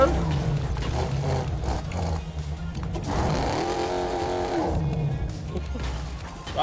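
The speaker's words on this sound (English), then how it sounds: "Stop revving your engine, bruv." Engine revving from a car in Fortnite, a steady mechanical drone with rising and falling pitch that swells near the middle, running under bursts of talk throughout.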